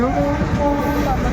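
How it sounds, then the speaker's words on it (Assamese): A train rumbles past close by, a loud, steady roar with a sustained tonal whine over the rolling noise. "এখনো ট্ৰেইন যাই আছে"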